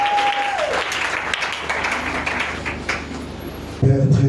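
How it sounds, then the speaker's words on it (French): A church congregation applauds in a dense, steady patter that fades gradually, with a sustained tone early on and a speaking voice coming in at the end. "Une dernière offrande d'acclamation avant la prédication."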